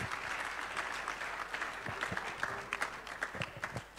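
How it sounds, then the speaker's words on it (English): Applause from an audience at a youth seminar in Ghana as guests take their seats, steady clapping throughout with scattered louder individual claps near the end. "with a round of applause as they take their seats"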